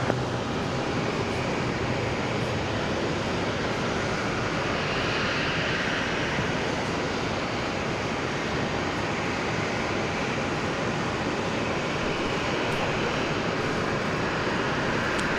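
A jet aircraft roars steadily on takeoff from runway 19 right at Brisbane Airport, a loud, continuous broadband rumble with a faint hum, unbroken by voices.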